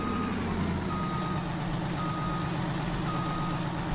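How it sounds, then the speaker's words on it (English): Reversing beeps from a truck backing up a short trailer in Farming Simulator 19, a steady series of evenly spaced beeps over a loud, constant diesel engine rumble. "See if I can back the trailer up and sneak it on in there."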